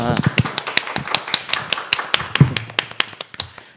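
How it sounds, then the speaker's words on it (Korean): Members at a Saturday family worship service clap to welcome a guest family, sharp close hand claps falling in a quick, fairly even rhythm with no voices. "우리 큰 박수로 다 같이 환영하겠습니다."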